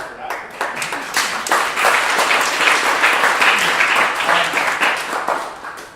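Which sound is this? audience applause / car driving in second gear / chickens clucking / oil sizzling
audience applause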